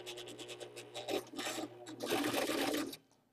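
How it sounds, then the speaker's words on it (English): A sewing machine running a long straight basting stitch on a blouse sleeve, a rapid close whirring in short bursts that settles into one longer steady run before stopping, with no talking. "Basting stitch, so I have it set for four length on the straight stitch."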